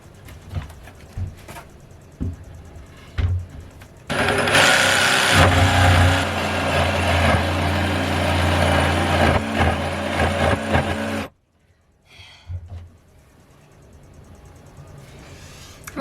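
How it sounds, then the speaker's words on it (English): Jigsaw cutting through the gray water tank framing in a van build, a loud rough buzzing blade for about seven seconds between quieter handling noises, then sudden quiet. "it's officially time to use the jigsaw, connect the dots, and pray for the best"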